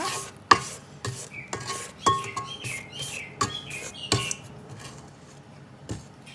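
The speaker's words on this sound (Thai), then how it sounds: "จากนั้นให้เราปัดอ่างอีกครั้งหนึ่งนะคะ" A spatula scrapes around a mixing bowl of creamed butter for cashew cookie dough, producing a run of irregular clinks and scrapes, close and clear with no talking.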